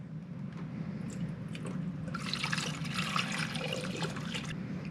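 Vinegar and water pour into a bottom-loading water cooler, a steady close liquid splash and trickle that grows fuller and louder partway through and continues without talk.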